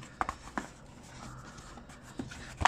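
Papers from an ASUS ROG Zephyrus G14 laptop box being handled during unboxing, giving soft, intermittent rustles and light taps close by, with a few sharper crinkles near the start and end.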